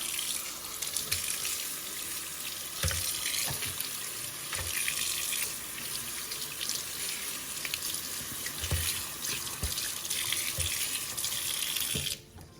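Tap water runs steadily from a faucet onto oranges being washed in a sink, a continuous close splashing stream with small knocks of fruit, ending abruptly when the water is shut off.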